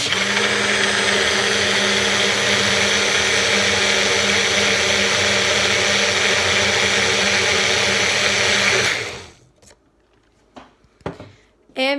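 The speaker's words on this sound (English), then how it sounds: "And then I put it in the blender." A blender runs at high speed mixing an IBS-friendly smoothie, a loud steady motor whine with the churning of the contents for about nine seconds. It then cuts off abruptly, followed by a few clicks and handling sounds.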